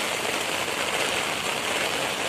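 Heavy rain pours down steadily in Swabi, a dense, loud, unbroken hiss with no voices.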